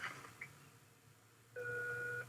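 A telephone is dialed at low volume, a few faint keypad tones followed by a steady two-tone signal that holds for about a second over quiet background hum, with no voice.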